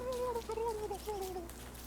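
Short series of clucks and gobbles from gobbler turkeys in a video game, a few quick close calls in a row, fairly faint.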